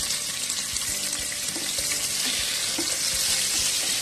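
Onions hit hot oil with cumin for coconut rice, producing a loud, continuous broadband sizzle and hiss that stays steady throughout, close up and uninterrupted by speech.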